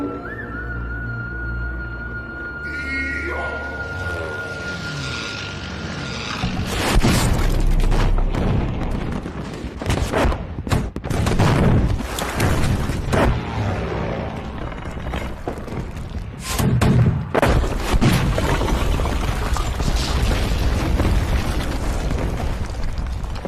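Tank cannon fire and aerial bombardment around Nanking in the Japan–China war erupt as a long barrage of deep, rumbling booms and overlapping blasts, loud and sustained after a quieter opening with a thin tone and distant rumble.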